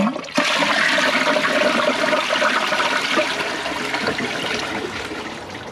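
A 2004 Eljer Patriot toilet, partly clogged, flushes with a loud, steady rush of water that carries on for several seconds with no one speaking.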